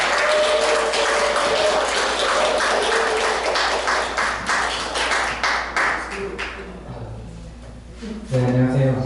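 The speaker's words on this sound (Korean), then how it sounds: "박수로 우리 환영하겠습니다" An audience claps to welcome a speaker to a health lecture, a lively round of many hands that is loud at first, thins into scattered claps and fades, then a voice begins speaking near the end.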